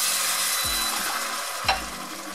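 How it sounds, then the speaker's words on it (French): Red wine hits a hot pan of vegetarian lentil hachis parmentier filling, giving a steady close sizzle. One brief scraping stir rises above it partway through. "Je vais ajouter le vin rouge"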